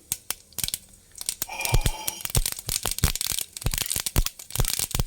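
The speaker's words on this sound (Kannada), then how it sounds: "ಸಾಸಿವೆ ಚಿಟಪಟ ಅನ್ನಲಿ ಫ್ರೆಂಡ್ಸ್" Mustard seeds sputter in about two tablespoons of hot oil while tempering buttermilk sambar, producing close, sharp, irregular pops and crackles that start sparse and grow into a dense, busy sizzle, with no talking.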